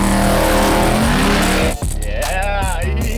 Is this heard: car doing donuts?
yes